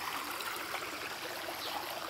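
Creek water running over rocks at a crossing on a forest hiking trail, a steady close rushing and trickling wash with no voices.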